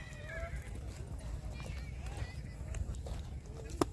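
Rocky, a race horse at the Vekariya horse race in Kutch, Gujarat, runs with a low rumbling clatter of hooves over a steady outdoor background, while someone talks over the sound.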